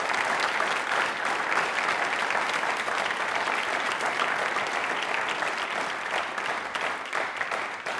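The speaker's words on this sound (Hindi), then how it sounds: "तालियां जोरदार होनी चाहिए प्लीज।" Sustained audience applause during a televised Independence Day quiz programme in Rajasthan, a dense, steady wash of clapping that stays loud and even for about eight seconds with no voices over it.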